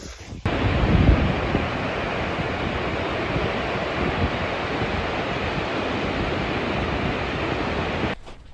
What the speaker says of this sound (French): Dettifoss, c'est la cascade la plus puissante d'Europe.